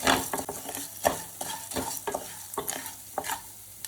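Fenugreek and black peppercorns dry-roasting in a pan for pulikachal spice powder, stirred with repeated scraping strokes over a crackling sizzle, close and fairly loud throughout.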